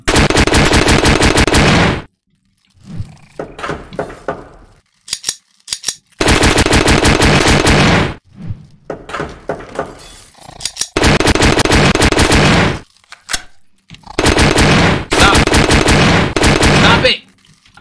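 Rapid automatic gunfire in the horror video game Puppet Combo Spiders: four long, loud bursts of continuous shots separated by short gaps holding quieter shots and clatter, with a voice talking in between.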